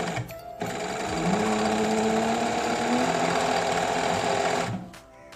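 A sewing machine stitches a pico edge on fabric with a steady, loud mechanical whir that runs continuously for several seconds and then stops, with no talk over it.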